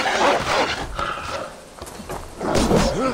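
Horse in Assassin's Creed Valhalla: snorts and thudding hoof movement near the start and again at the end, with a quieter stretch between, amid game sounds and no clear talk.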